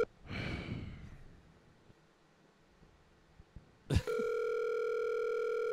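A phone call rings out: after a breathy sigh and some quiet rustling, a sharp click is followed by a steady, continuous telephone tone that holds to the end.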